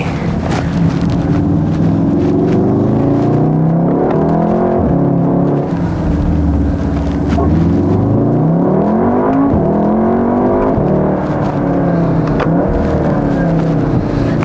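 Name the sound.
tuned VW Mk7.5 Golf R driving and accelerating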